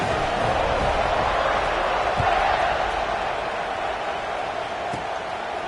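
A football stadium crowd at Auburn keeps up a steady, dense buzz of chatter and noise that stays constant throughout, with no distinct cheers standing out.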